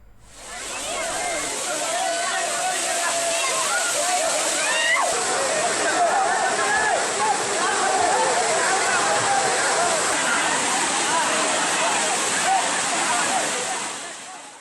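Kumbakkarai waterfall pours down in a loud, continuous rushing roar with splashing from tourists bathing beneath it, steady throughout and close by.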